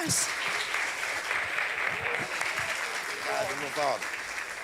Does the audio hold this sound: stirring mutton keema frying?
no